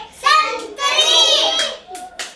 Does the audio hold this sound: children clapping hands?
yes